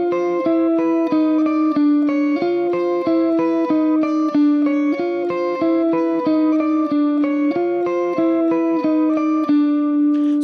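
Guitar finger independence exercise, a steady, even stream of single picked notes cycling through a repeating pattern around one pitch area, clean and close, with no talking.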